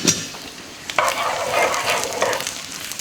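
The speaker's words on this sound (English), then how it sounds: "There's a little bit of a sizzle there." Garlic frying in sesame oil in a pan gives a steady, close sizzle with stirring scrapes that swell after the first second and hold to the end, with no talk over it.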